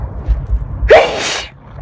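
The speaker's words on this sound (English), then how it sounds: "I think I need to sneeze" A single sharp sneeze bursts out from a person driving, preceded by a brief intake of breath, close and loud over the low rumble of the car cabin.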